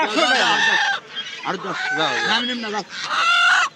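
Native chickens at a poultry market make loud, close clucks and drawn-out squawking calls in several overlapping bursts, with a brief quieter gap between them.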